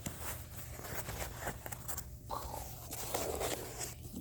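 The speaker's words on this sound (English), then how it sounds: "let's get to the unwrapping of this guy" A Saberforge lightsaber package is unwrapped, producing faint, close rustling, scraping and crinkling of packaging material in uneven bursts.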